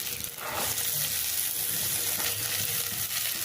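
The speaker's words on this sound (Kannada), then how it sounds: "ಈರುಳ್ಳಿ ಕಂದು ಬಣ್ಣ ಬರಲಿ ಅಲ್ಲಿವರೆಗೂ ಹುರಿಯೋಣ." Chopped onions fry in a pan until browning, a steady close sizzle with light stirring noises throughout, no talking.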